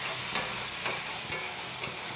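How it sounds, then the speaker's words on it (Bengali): Spice paste for fish curry frying in a pan while being stirred, a steady close sizzle with four evenly spaced scrapes of the spoon against the pan, no talking. "মাছের ঝোলের জন্য মশলা ভাজা প্রায় হয়ে গেছে।"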